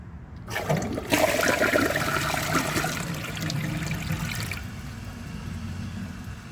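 A 2017 Sterling Windham front-flush toilet is flushed with a dish towel in the bowl, giving a loud rushing burst of water that settles into a steadier swirl and then a softer refill trickle, with no talking.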